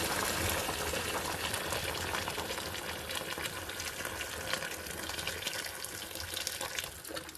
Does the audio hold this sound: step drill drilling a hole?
no